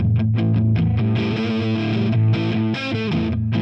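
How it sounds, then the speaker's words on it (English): Electric guitar driven hard through the preamp of a hand-wired StewMac '81 Brit-800 kit head in JCM-800 style, a fuzzy, saturated distorted riff of quick chugged notes and sustained chords played alone. "you can get the crazy hairy preamp distortion that you can't get in the Plex 45."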